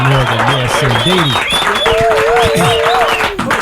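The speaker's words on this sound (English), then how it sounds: "Big round of applause for Dr." Studio applause greeting a radio show guest doctor, a short burst of clapping and crowd noise mixed with loud, clear voices and sung or tonal elements that dominate.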